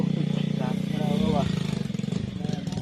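Motorcycle engine idling and revving nearby, a steady mid-pitched drone with short throttle rises, heard under people talking in a casual outdoor setting.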